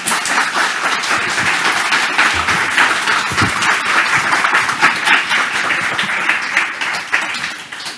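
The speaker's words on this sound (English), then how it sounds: "a big warm applause" A warm round of applause from the audience at a panel event at the Sydney Opera House, dense and energetic clapping with sharp individual claps standing out, sustained before starting to taper at the end.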